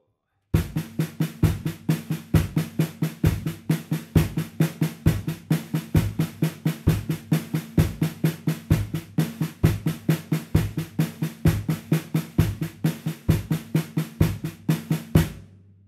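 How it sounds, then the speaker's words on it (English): Drum pattern of four single strokes followed by two doubles, with a steady foot pulse underneath, repeating evenly for about fifteen seconds, close and loud, with no talking. "the four singles followed by two doubles."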